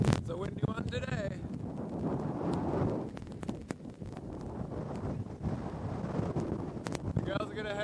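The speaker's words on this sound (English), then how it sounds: "It's a windy one today." Wind on a beach buffets the microphone in a loud, continuous rumbling roar that surges and dips, with people's voices briefly heard at the start and end.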